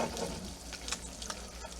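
An egg fries in a pan, giving a steady, close sizzle with faint crackles and no voices.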